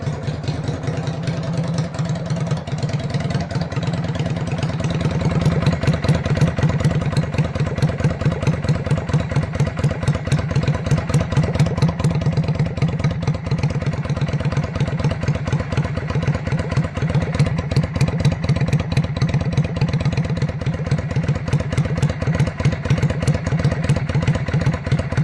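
Yamaha XVS 125 Dragstar motorcycle engine idling at low RPM, a steady close mechanical putter with rapid even firing pulses and slight clatter, running alone for the whole stretch without speech.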